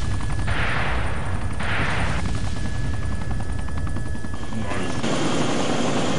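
A video game helicopter under fire, its steady rotor drone running throughout while bursts of gunfire crackle against it, loud and close, with game voices talking over the action.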